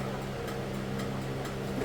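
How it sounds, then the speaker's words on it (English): A steady, rapid clicking from a Toyota MR2 turbo car's starter repeats at an even rhythm over a low mechanical hum, close and moderately loud. "So I've got a clicking noise."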